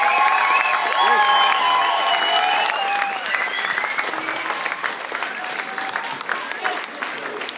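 Applause and cheering for high school students at a school orchestra concert, a loud sustained crowd with clapping, whoops and shouting voices that ease slightly toward the end.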